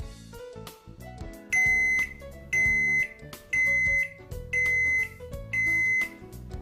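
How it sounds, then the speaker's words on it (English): Zojirushi home bakery bread machine sounding its finished-baking signal: a bright electronic beep pattern repeated about five times in loud, evenly spaced bursts, following a softer run of stepped tones. "the home bakery beeps to let you know that your bread is finished baking."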